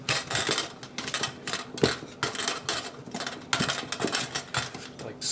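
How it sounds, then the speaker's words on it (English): Butter is worked into flour in a bowl with a pastry cutter for a cheesecake crust, making rapid, irregular clinking and scraping strokes close by, with some talk in the background. "now we're just going to use a pastry cutter and cut the butter in"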